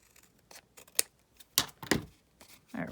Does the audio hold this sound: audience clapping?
no